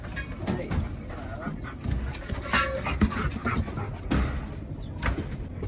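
A dog pants rapidly and steadily nearby on a farm, with rustling and faint background noise around it.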